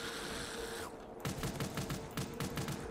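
Weapon fire in Black Ops 3 Zombies custom maps, a rapid burst of repeated shots after a brief pause, moderately loud over steady game ambience, no talk.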